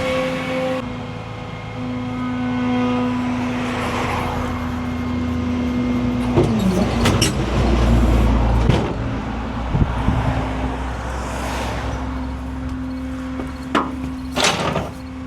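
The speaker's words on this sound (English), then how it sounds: "we're gonna get the idles up, so get the PTO running a little bit faster" A tow truck engine held at raised idle with its PTO running makes a steady, close-up mechanical hum, with a few sharp clunks and knocks mixed in.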